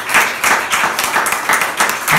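A church congregation claps loudly in a brisk, even rhythm, with many hands merging into dense, regular bursts throughout.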